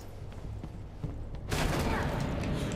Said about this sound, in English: I love shotties.